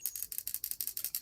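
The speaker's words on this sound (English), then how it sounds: "I love the metal pendulum clacker." Rapid, even metallic clacking from a metal pendulum clacker on a virtual pet toy, about eight or nine light ticks per second, close by and fairly quiet, with no voices.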